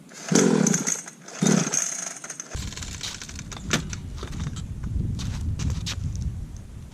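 A Syx Moto pit bike engine revs in two loud bursts and then bogs down into a rough, uneven, sputtering run, close and without talk.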